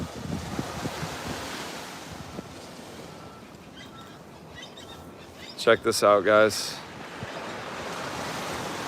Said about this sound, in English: the ocean is calm, the wind is down.